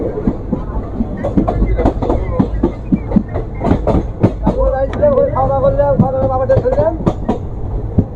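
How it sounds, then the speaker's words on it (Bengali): A passenger train running from Krishnanagar City to Azimganj Junction rolls along the tracks close by, rhythmic clattering wheels and a droning engine tone, with people talking over it. "নতুন ট্রেনটা নতুন আসছে"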